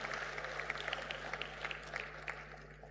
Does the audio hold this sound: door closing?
no